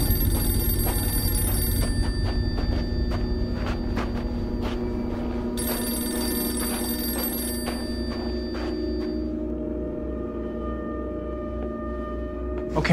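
A telephone ringing out while calling a neighbour, repeated bell-like rings in a steady pattern, clear and close, with no voices over it.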